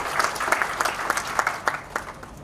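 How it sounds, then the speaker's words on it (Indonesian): A crowd at an Indonesian national sports and recreation meeting claps, a short burst of many hands with sharp, distinct claps rising and fading, close and fairly loud. "Tepuk tangan untuk"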